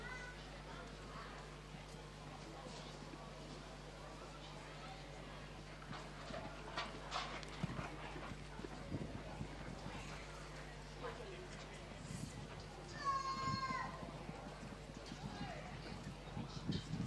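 Hooves of a novice horse on a show jumping course at a competition, with faint clip-clop steps running under steady arena noise and a commentator's voice.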